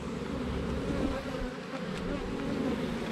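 Honey bees buzz steadily at an open hive in North Queensland, Australia, a dense continuous drone close by at even loudness throughout.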